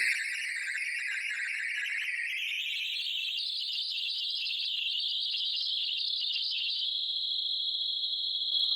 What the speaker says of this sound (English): when you turn the mod wheel to the max, it sounds like birds.